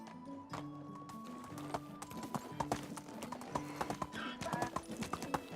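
Hooves clip-clop rapidly as a horse gallops in the medieval village game Medieval Dynasty, a quick rhythmic patter with a whinny near the start and other game sounds in the background.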